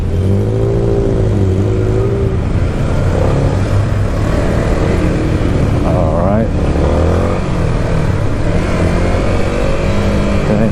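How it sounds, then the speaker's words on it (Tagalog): Congested road traffic with cars and motorcycles: loud, continuous engine drone and idling, with motorbikes revving and accelerating nearby, and a person talking over it. "traffic na naman tayo ayan na naman tayo oh"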